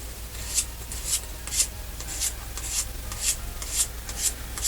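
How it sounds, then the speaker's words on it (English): Fine abrasive scuffing across a polyurethane clear coat on a wooden chess piece, a quiet run of about nine short, regular rubbing strokes, close and alone. "That's all I'm going to do, is scuff the surface."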